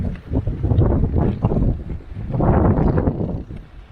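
Steady coastal wind buffeting a microphone on a Portuguese seaside walking route, low rumbling gusts that swell and ease over a few seconds, with faint rustling in the background.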